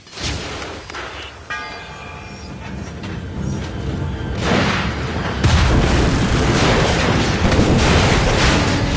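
Grenade blast in the Assassin's Creed Rogue game, a loud booming burst near the middle that leaves a dense, sustained rumble of battle noise, with no talking.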